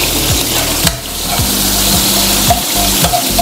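Ginger sizzling and frying in a little cooking oil in a pan, a steady crackle with occasional stirring scrapes, close and fairly loud with no voices.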